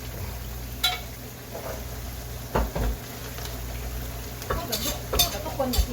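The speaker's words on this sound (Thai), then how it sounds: "เพราะมันทอดน้ำมันเยอะๆมันจะได้กรอบๆ" Salmon frying in a generous amount of hot oil gives a steady low sizzle throughout, with a few brief scrapes and clinks of a utensil against the pan standing out now and then.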